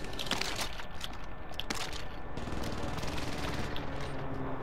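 Rapid automatic gunfire from tracer rounds in Call of Duty Warzone, steady bursts of shots running throughout at close range, dense and loud with no talk over it.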